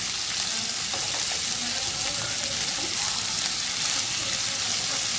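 Okra stir-fries over a high flame, a dense, continuous hiss of sizzling oil close by and loud, with faint stirring scrapes beneath and no speech.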